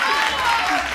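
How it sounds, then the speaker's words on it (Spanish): An audience at a children's quiz show breaks into steady, dense applause that stays loud from start to finish, with a voice calling out over the clapping. "¡Un aplauso para Rubén!"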